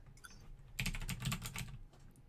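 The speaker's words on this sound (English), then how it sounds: "I'm typing." Computer keyboard typing in quick bursts, fairly close and clear, with a dense flurry of key clicks in the middle and lighter taps before and after, no talk.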